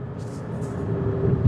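Car with a dual-clutch transmission engine braking after downshifts to fourth and third gear: a low, continuous droning hum that swells slightly toward the end, heard from inside.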